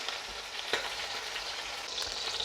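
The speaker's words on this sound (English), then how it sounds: "I'm going to pop that in there and let it sear for about 3 to 4 minutes until it's brown on that side" Beef brisket sears in a hot pan with a steady, fairly quiet bright sizzle, broken by a couple of sharper crackles and spits.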